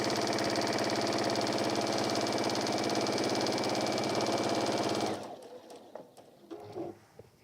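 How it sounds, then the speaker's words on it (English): Sewing machine stitching along the bottom of a lined deluxe apron: a loud, steady, fast mechanical whirring for about five seconds, then it stops, leaving light handling clicks and rustles. "We're now sewing along the bottom."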